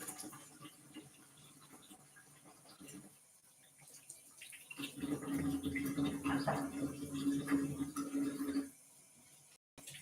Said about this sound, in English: Just gotta wash my hands because all that oil and crap